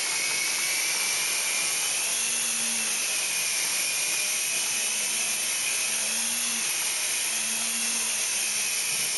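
A small model helicopter hovers with a steady high-pitched motor whine and rotor buzz, loud and continuous throughout, with slight changes in pitch as it practises landings and takeoffs.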